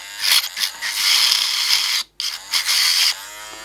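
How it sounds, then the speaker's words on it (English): A buzzing power tool scrubs rust off a solar garden light: a close, high-pitched rasping whir in bursts, stopping briefly before starting again. "we're going to scrape off all of the rust"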